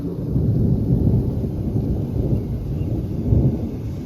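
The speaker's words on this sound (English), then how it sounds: "But the thunder just started. A storm's brewing" Steady low rumble of thunder rolling through a rainstorm, deep and continuous with a swell near the end, rain hiss faintly beneath, no voices.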